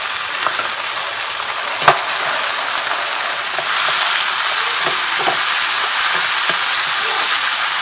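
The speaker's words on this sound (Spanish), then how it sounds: "Vamos a poner también nuestra cebolla." Onion frying in a pan for a Puerto Rican-style salami dish: a loud, steady sizzle and crackle runs throughout, close and continuous, with a small clunk near the start.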